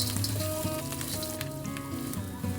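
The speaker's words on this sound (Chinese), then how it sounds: "然后不停翻炒，直到炒干水分，表面变得金黄。" Pork stir-fries in a pan until golden for Taiwanese braised pork rice: a loud, dense sizzle with stirring clatter close up, and no talk.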